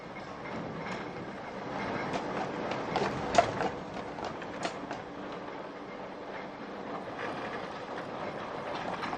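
A British tram running along rails on a city street, with a steady rolling rumble, rhythmic wheel clatter and occasional sharper clanks, moderately loud and continuous.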